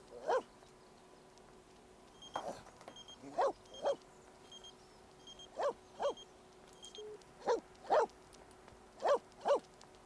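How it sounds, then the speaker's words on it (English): Tom, a dog in The Sims 4, barks in repeated single and paired woofs spaced a second or so apart, fairly close and clear over a steady low game hum. "Why does Tom keep barking?"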